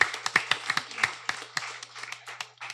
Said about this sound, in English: Please give our esteemed panel a round of applause.